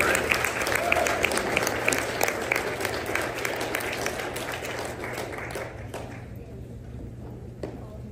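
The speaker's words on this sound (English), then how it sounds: "Let's give everyone a round of applause for those words." Applause from the audience at a spelling bee fills the room, a steady wash of many hands clapping that thins out toward the end, with a few last scattered claps.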